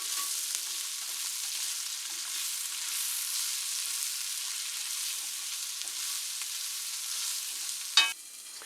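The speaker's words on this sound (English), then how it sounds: "In a pan with plenty of butter, you'll just want to fry up the fiddleheads" Fiddleheads fry in plenty of butter in a pan, a continuous close crackling sizzle with light stirring throughout. A single sharper knock of a utensil lands near the end, and there is no talking.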